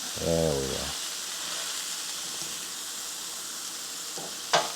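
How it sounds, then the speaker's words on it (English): Steady broadband sizzling of buttermilk pancakes frying in a pan, continuous and close, with a brief voiced sound at the start and a short clatter near the end. "So we're gonna let that sizzle out."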